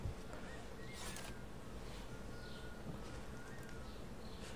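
Pigeon-like birds coo softly in a stealth game city, a few low, muffled calls over a steady ambient hum, distant and quiet with no talking.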